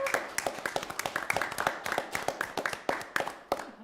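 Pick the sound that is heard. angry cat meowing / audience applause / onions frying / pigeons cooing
audience applause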